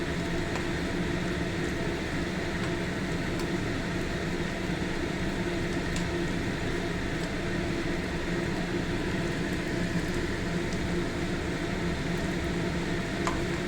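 Chhana bora, cottage-cheese fritters, frying in oil, making a continuous close hiss and sizzle with small pops scattered through it and no voices.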